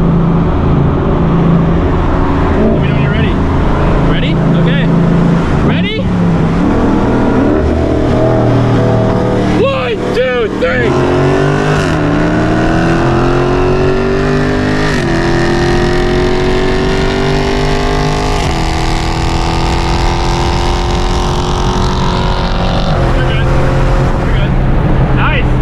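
Ford Mustang Boss 302 pulling from a 40 mph roll, heard from inside the cabin: the engine climbs steadily through a long sustained rev with a shift partway, loud and close, with speech over the drone.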